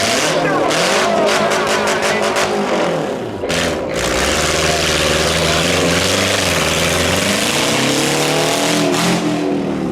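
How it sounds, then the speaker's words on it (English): A Subaru stunt car with a spare tire on the left rear runs at a speedway stunt show, its engine revving and roaring loudly past under an announcer's voice over the PA. "Here comes Jay. It's the Subaru with the spare tire on the left rear"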